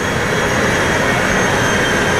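The Hydra jet in GTA San Andreas gives a loud, steady jet-engine roar. It is a dense, unbroken wash of noise that stays close throughout.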